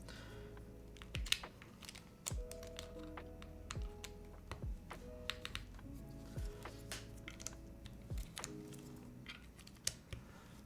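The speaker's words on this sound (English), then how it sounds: "let's put some keycaps on this thing" Mechanical keycaps are pressed onto an Arc60 keyboard one by one, producing quiet, irregular plastic clicks and snaps at close range.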